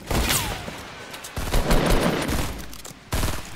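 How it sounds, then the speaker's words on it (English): Gunfire in the battle royale video game Fortnite: dense, rapid bursts of shots at close range, loud and continuous, broken by a brief pause before another burst. "Oh shit, I'm getting shot from somewhere else."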